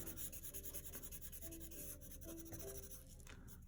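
A pencil scratches softly on paper while a tree is being drawn, in quiet, continuous strokes with slight changes in pressure and a few brief pauses.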